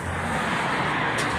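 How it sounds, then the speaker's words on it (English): Road traffic with cars going by as a steady, loud, full-range rush of tyre and engine noise, with no gaps and no voices. "These cars are going horizontally."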